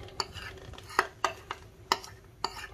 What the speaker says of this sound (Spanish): ahora lo que vamos a hacer es simplemente mezclar el chocolate con el plátano